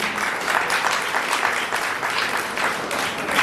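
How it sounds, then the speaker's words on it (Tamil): A church congregation claps steadily during a parish feast-day service with Eucharistic blessing, a brief, even burst of applause filling the hall without a break. "ஒரு கைத்தட்டு தட்டுங்க"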